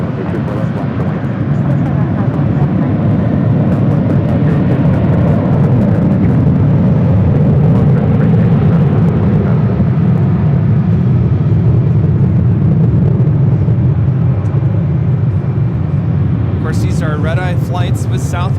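A Southwest Boeing 737-800 takes off from runway 24 left at Los Angeles International Airport, a steady loud jet roar and low rumble holding for the whole stretch, with a brief burst of other noise near the end.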